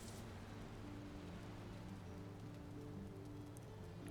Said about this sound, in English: So sorry about the rain.